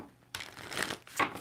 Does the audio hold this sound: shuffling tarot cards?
yes